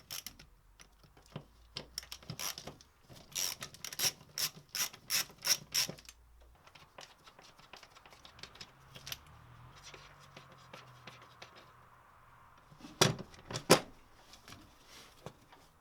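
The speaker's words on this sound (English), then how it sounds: "I'm just going to unbolt the whole assembly from the bulkhead." A hand ratchet clicks in quick bursts while unbolting an assembly from the bulkhead of a Renault Trafic van. The sharp pawl rattles come close and crisp, fall quiet for a stretch of faint mechanical shuffling, then return near the end.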